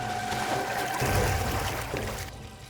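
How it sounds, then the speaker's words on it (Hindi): Water pours and trickles steadily at close range, a continuous splashing wash that eases off toward the end, with no one talking. "पानी की आवाज?"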